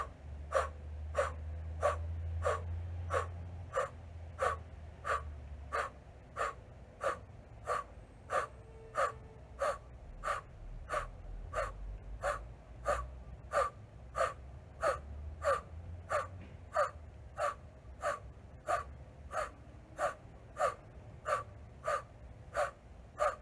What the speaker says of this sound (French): poursuivez la respiration avec l'intensité qui vous convient